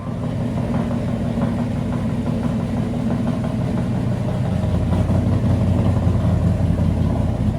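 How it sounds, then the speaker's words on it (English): A 1993 Chevy cammed V8 with headers and Flowmaster exhaust rumbles steadily at idle after a cold start, a low throbbing drone that stays loud throughout. "This is a cold start."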